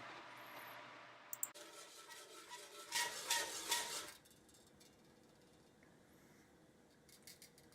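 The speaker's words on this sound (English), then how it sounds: "Keep stirring about 15 to 20 minutes until the sauce becomes thickened or sticky." A spoon stirs the thick sticky rice biko mixture in a pan, giving soft, faint scraping and clinking, with a denser burst of scraping in the middle before it settles into quiet.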